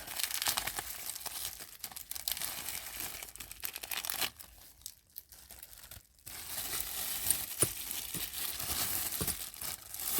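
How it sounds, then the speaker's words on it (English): Wrapping paper around a Dooney & Bourke handbag crinkling and rustling as it is pulled away, in bursts of close, crisp crumpling with a brief quieter pause midway. "move on to the next unwrapping from the unboxing"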